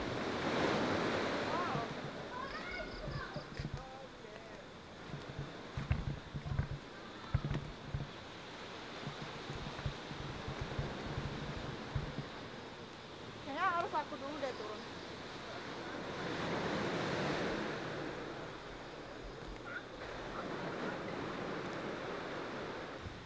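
Big surf breaks on Bias Tugel Beach in east Bali at dusk, a steady rolling wash of waves mixed with wind buffeting the microphone, with faint voices at times.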